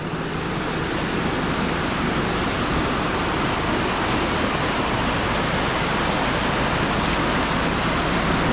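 A stream swollen by a strong storm rushes through a valley, giving a loud, dense, unbroken roar of water that holds steady throughout.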